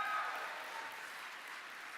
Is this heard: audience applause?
yes